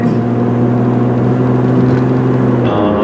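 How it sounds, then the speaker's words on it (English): Steady engine drone with a low exhaust rumble from a moving 2002 Hyundai Sonata LX, continuous and fairly loud, shifting tone slightly near the end. "even with the loud exhaust, you know, which isn't that loud, but it's there"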